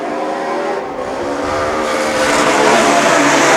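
Loud, steady roar of several Legend Cars racing engines passing close by on a track during a night heat, a broad continuous drone that swells slightly toward the end.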